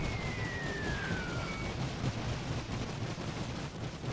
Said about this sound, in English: which means that the machine guns keep firing